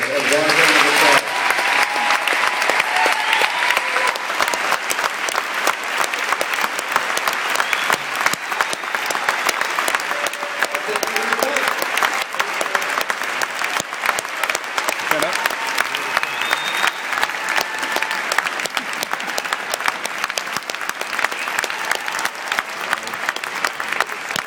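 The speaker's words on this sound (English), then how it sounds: "let's give Jonathan, Carrie, and Fred a warm round of applause" Audience at a Portlandia comedy event at SF Sketchfest applauds continuously with dense, loud clapping that swells at the start and holds steady, with scattered cheers mixed in.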